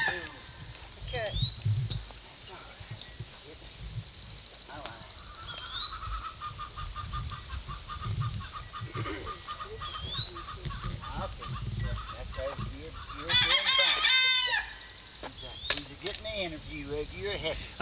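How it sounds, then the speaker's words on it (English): A farmyard chicken clucks and cackles as if about to lay an egg, with intermittent calls at moderate distance that grow busier near the middle and end. People talk over much of it. "I hear a chicken down there singing"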